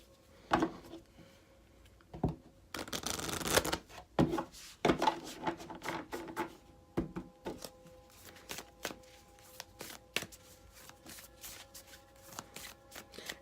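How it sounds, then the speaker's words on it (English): Cards from The Universe Has Your Back oracle deck are shuffled and drawn by hand, with a dense riffling burst early on, then a series of sharp snaps and soft slides that go on alone at close range. "let me pull one card"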